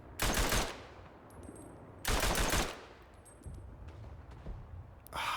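Hotchkiss machine gun fire in the World War I shooter Verdun: two loud, close bursts of rapid shots, each lasting about half a second, with quieter distant shots and battlefield rumble between them.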